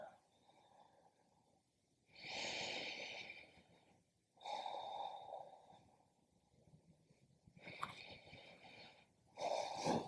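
Slow yoga breathing through the nose, several long airy exhales and inhales in a calm rhythm separated by quiet pauses, close and soft with a faint breathy hiss.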